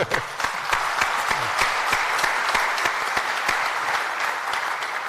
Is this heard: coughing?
no